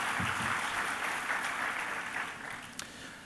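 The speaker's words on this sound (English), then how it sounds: "please join me giving them a round of applause." A conference audience at the AIDS 2026 closing session in Rio de Janeiro claps in a full, dense burst that fades toward the end.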